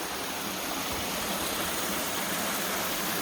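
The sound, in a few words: waterfall on Sipsey Wilderness trail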